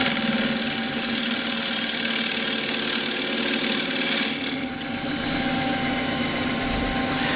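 Bowl turning on a wood lathe with a 3/8 spindle gouge, a steady broadband motor whir and cutting hiss that eases slightly halfway through, continuous and close.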